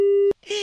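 A steady telephone busy tone cuts off abruptly after a dropped call on a radio station phone line, followed by a short gap and then a voice speaking.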